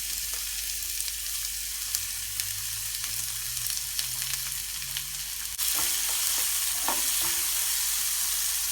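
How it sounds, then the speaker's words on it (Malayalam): Sliced onions sizzle and fry in an iron pan for kappa biryani, a steady crackling hiss that grows louder and brighter partway through, with occasional scrapes of stirring. "ആദ്യം തന്നെ കപ്പ ശരിയാക്കി എടുക്കാനുള്ള സവാള നമുക്ക് വഴറ്റിയെടുക്കാം ഞാനെപ്പോഴും ഇരുമ്പിൻ്റെ പാനുകൾ തന്നെയാണ് ഉപയോഗിക്കുന്നത്"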